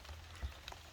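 Rain falling on a hot day, a soft steady wash of drops on surfaces with occasional louder patters, heard alone without talk.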